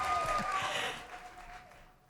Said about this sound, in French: On peut l'applaudir quand même, hein?